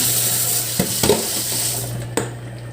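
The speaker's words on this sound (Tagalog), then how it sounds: "Ilagay ko na yung mga hipon." Shrimp added to a pot of sinigang, steady bubbling simmer with a few soft knocks and clinks of a utensil against the pot.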